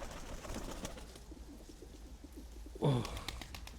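A pigeon coos softly against a low background hum, ending in a louder, throaty coo near the end.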